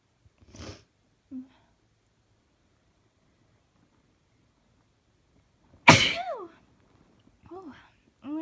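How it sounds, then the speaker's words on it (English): Repeated sneezing after a person uses a nasal spray, several sneezes spread out with one sharp, loud, close burst in the middle and quieter breathy sounds and small noises between them. "I'm gonna try and get like 10 sneezes out."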